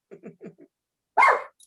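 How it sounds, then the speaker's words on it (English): A small dog gives four quick, clipped yaps close by, then a pause and one louder, longer bark, all in an otherwise silent room. "excuse that Lenny's barking"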